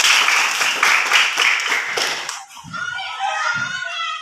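A classroom of children clapping together in quick, loud rhythmic claps for about two seconds, then stopping, followed by a few soft thuds and faint chatter.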